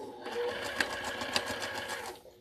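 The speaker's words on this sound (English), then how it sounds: "And so I'm going to sew with the same seam." A sewing machine stitches a flannel seam in one steady rapid run of needle clatter that stops at the end, close and clear with a faint voice underneath.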